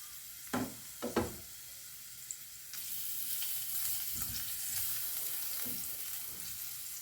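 Ginger sizzling in a pan while cooking ginataang squid: a few soft knocks of it landing first, then a steady close hiss of frying with occasional light stirring clinks.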